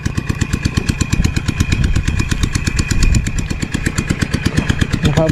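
Motorcycle engine idling close by, a loud, steady rapid putter of evenly spaced firing pulses that holds a constant rhythm throughout without talk.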